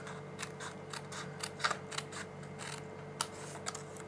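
Card panel being trimmed along a score line with scissors, giving soft, repeated snips and light crisp clicks at a steady, unhurried pace, close and quiet over a faint background hum.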